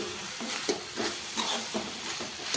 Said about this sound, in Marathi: आणि चांगलं परतून घेते बघा खूप असं मस्त चांगलं परतून घेत आहे मी